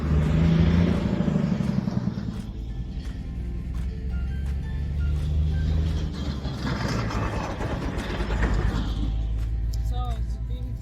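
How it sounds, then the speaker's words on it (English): Traffic on a busy road with trucks passing, a continuous low engine rumble and drone that swells and fades as heavy vehicles go by, heard from the roadside. "A busy road."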